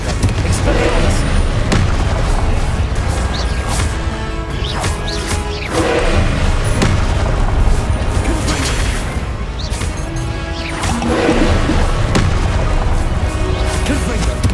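Blasting-spell explosions from the Confringo charm in the Hogwarts Legacy video game, a dense run of loud booms and crashes mixed with other combat spell effects, heavy and continuous throughout.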